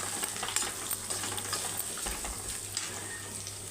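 Potatoes and vegetables sizzle steadily in a pan while being stirred, with soft scraping touches over a continuous low frying hiss.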